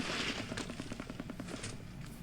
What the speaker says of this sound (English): in theory, we pay, we get the eruption noise